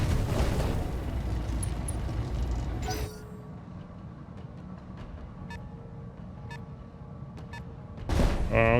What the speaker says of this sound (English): the particle cannon into the back of Miranda there